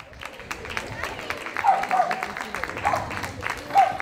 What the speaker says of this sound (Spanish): Un fuerte aplauso para Luis, que me va a ayudar.